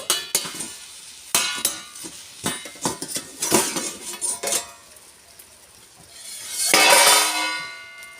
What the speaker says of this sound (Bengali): আঁচটা আমি এবার ঢাকাটা খুলব